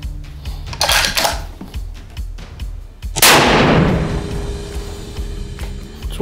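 A 25 Creedmoor rifle with a Shilen Ratchet barrel fires a single loud, sharp shot during load testing at a range, its crack decaying into a long echoing tail, preceded by faint clicks and handling noise.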